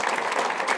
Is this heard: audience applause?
yes